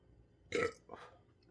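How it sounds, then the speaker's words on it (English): A single loud burp after eating a hot pepper, one short close belch followed by a softer second gulp-like release, heard alone with no talking. "Excuse me, pepper burp."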